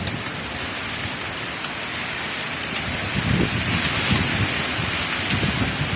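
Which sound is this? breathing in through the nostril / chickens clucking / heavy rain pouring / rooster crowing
heavy rain pouring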